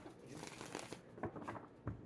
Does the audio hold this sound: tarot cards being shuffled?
yes